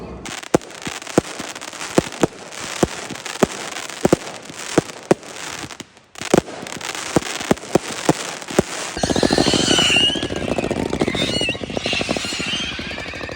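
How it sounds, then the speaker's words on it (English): Bonfire night firework display with a steady run of sharp bangs and cracks at irregular intervals, then a denser crackling, fizzing burst near the end, loud and close with no talk. "That was possibly one of the best bonfire nights I've ever been to in my life. And that firework display"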